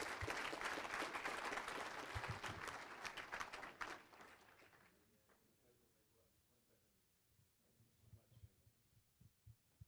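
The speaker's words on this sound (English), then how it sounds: "Another round of applause for Dieter and Gary Smotherman." Applause at a school athletics hall of honor ceremony, a few seconds of crowd clapping that fades out midway, leaving a quieter room with low thumps and murmur.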